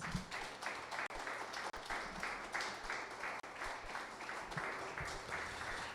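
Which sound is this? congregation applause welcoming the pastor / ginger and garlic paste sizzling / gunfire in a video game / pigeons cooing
congregation applause welcoming the pastor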